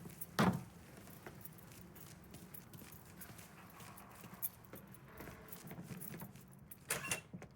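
Keys jangle in the video game Mafia 3, with a sharp metallic rattle early on and another brief burst near the end over low, steady background noise.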